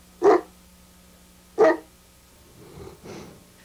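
Newfoundland dogs at home in Newfoundland give two loud, deep barks about a second apart, followed by softer, lower grumbling huffs close by.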